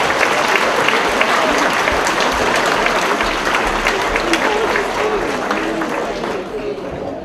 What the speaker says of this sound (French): Je pense que ça mérite une bonne main d'applaudissements.